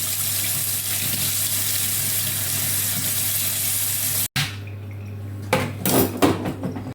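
Tap water runs gently into a small pot at a kitchen sink, a steady close rush for about four seconds that stops abruptly, followed by a few clinks and clatters of the pot as fish pieces are rinsed.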